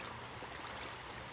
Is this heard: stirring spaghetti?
no